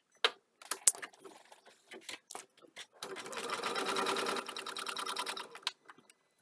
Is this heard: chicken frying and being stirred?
no